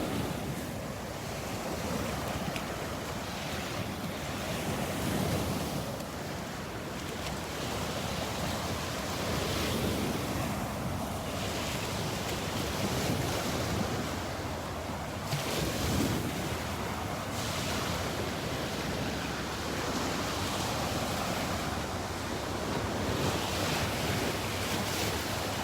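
Steady surf washing onto the beach at Delnor-Wiggins near Wiggins Pass, with gusting wind buffeting the microphone throughout; constant broadband roar with no voices.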